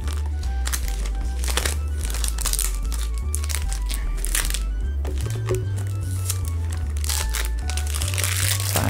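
Plastic wrap crinkles and tears loudly and steadily as it is stripped off a boxed Switch game during an unboxing, with music playing underneath throughout.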